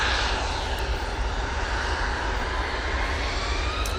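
A KLM Embraer E175 jet on its takeoff roll at Manchester Airport produces a continuous, even engine rumble and hiss, moderately distant and steady, with no talking.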